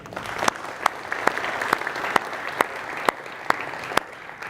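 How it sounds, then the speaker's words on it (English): An audience at an event's opening remarks gives a sustained round of applause, a continuous wash of clapping punctuated by regular sharp, close claps every half second or so. "a round of applause for them, please"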